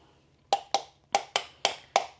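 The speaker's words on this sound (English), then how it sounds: "My apologies for the banging." Six sharp knocks on a door land in an uneven rhythm, each a crisp hit with a quick decay, fairly faint and with no talking.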